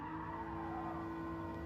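A Porsche on a race track digging hard into a corner, its tires squealing in a steady high whine over the continuous engine drone, close and sustained.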